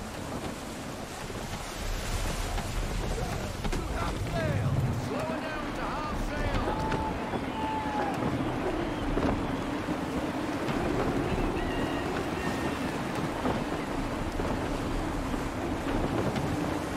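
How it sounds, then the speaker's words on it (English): Gusty wind blowing over open sea in Assassin's Creed 3, with steady broadband rush, surf and creaking sailing ship, continuous and loud throughout, with faint game voices and cries in places. "Gusty winds can be difficult to manage."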